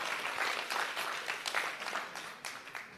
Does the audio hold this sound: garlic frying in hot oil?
no